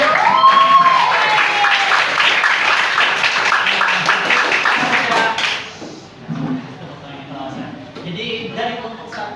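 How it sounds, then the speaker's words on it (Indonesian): Students clapping in a classroom after presentations, a dense burst of many hands applauding together for about five seconds before it stops and voices begin talking. "Tepuk tangan dulu bagi kalian semuanya."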